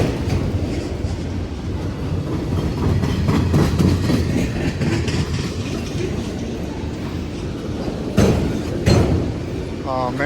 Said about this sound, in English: I think I see the end of this train. I was really hoping we'd get a meet here. These are empty racks, by the way.